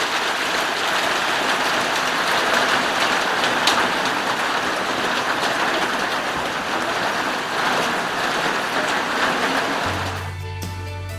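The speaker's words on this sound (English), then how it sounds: "Ah, the rain." Steady, heavy rain drums on a goat barn roof, a dense, even hiss that runs loud and close without a break until a low mechanical hum joins near the end.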